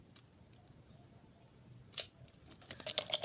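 Scissors snipping the tip off a soft vitamin E gel capsule, close and quiet, with a few small clicks and then a cluster of crisp cuts near the end.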